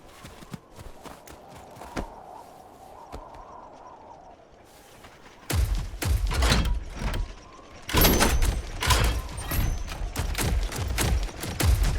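Gunfire in an Iron Harvest cutscene, with sharp shots cracking sparsely at first and then erupting into a loud, rapid volley of bursts over the second half.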